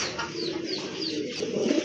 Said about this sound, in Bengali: দুইটাই হচ্ছে আপনার রানিং কবুতর